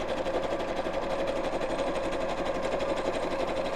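A sewing machine runs continuously and fairly loud up close, its rapid needle hammering out an appliqué satin stitch on fabric with a steady, even buzz.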